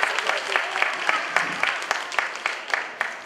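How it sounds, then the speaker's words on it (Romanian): An audience applauds at a December 2014 music school show, with sharp, dense claps close by that sustain steadily throughout. "aplauze!"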